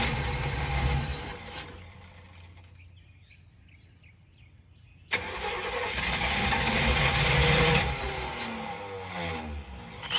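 Engine of a GMC C3500 truck, short on fuel with air in the system, cranking without catching: a long grinding crank, a quieter pause, then a second louder crank that still fails to start.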